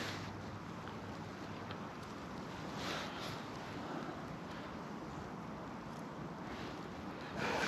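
Steady crosswind rushing across an open microphone while fishing, a constant broadband roar with slight gusts, no voices.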